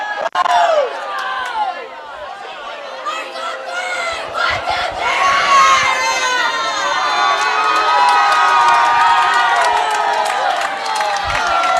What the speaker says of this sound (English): you think they heard the Napoleon fans cheering over there?